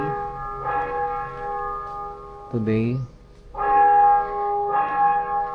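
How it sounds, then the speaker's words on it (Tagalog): Sunday church bells in Misamis Occidental, Philippines, ring with steady sustained tones, rising in bursts, while a person speaks briefly over them. "may kampana kasi it's Sunday"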